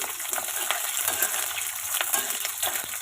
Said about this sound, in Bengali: পেঁয়াজগুলো একটু ভাজা হোক